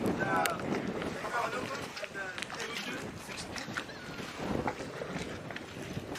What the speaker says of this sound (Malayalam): ബോട്ടിൻ്റെ എൻജിനൊക്കെ സ്റ്റാർട്ട് ചെയ്ത് ഇതാ അതിൻ്റെ റോപ്പൊക്കെ അഴിക്കുകയാണ് നമ്മുടെ ഫഹദ് ബ്രദറ്.